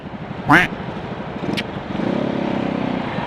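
Road traffic in Davao heard from a vehicle: a steady engine rumble with passing vehicles and a short horn-like chirp, while someone talks over it.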